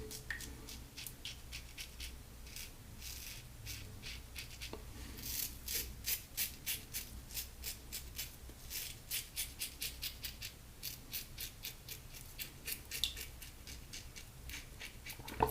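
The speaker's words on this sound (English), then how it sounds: "this is a razor where the sound of the razor is deceptive" A razor shaving through lather, a steady run of short, crisp scraping strokes repeating in a quick, even rhythm, close and fairly quiet with nobody talking.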